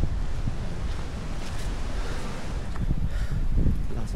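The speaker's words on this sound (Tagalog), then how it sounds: "Lakas ng hangin." Strong wind on Mt. Tapulao buffets the microphone, a loud, continuous roar that swells and eases with no clear pauses.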